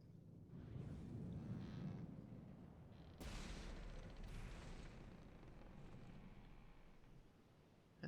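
Ship cannons fire in the naval combat game From the Depths, a faint, distant rumbling barrage with a couple of sharper booming bursts partway through.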